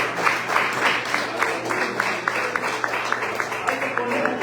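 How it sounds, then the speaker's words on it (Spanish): A church congregation applauding, moderate in level, with a fairly steady train of distinct claps under a faint background hum and some voices. "Un fuerte aplauso para."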